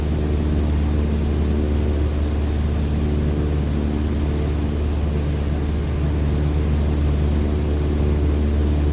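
Cessna 152 flying between Houston and Galveston in the evening in Microsoft Flight Simulator 2020, its propeller engine a steady, loud, low droning hum that never lets up, with no talk.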